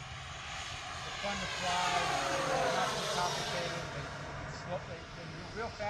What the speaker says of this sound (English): That's what we consider like a sport jet.